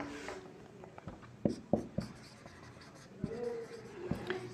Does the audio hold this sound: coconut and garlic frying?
no